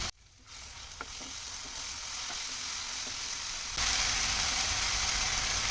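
Tomato and ginger paste sautéing in a pan for tomato rava bath, a soft continuous sizzle with a few light stirring scrapes, swelling into a louder, brighter frying hiss near the end.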